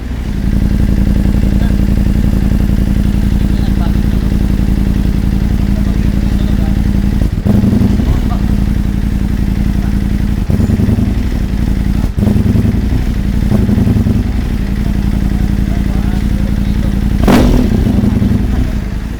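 Ducati motorcycle fitted with a dual exhaust idling and revving close by, a loud continuous engine rumble with a few sharper blips and thumps, steady throughout.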